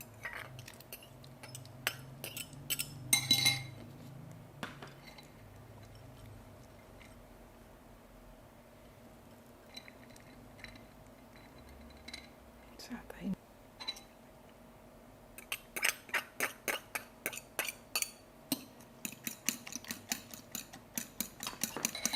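Egg whites and chopped vegetables get mixed in a bowl, with scattered clinks early on and then a quick run of rhythmic spoon taps against the bowl toward the end. A voice speaks softly in places.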